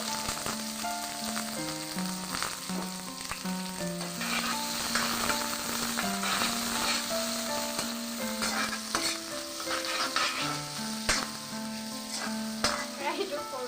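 Onions sizzle in hot oil with cloves, cardamom and cinnamon in a small wok for spicy pork curry, with steady frying and repeated scraping stirs throughout, and music playing in the background.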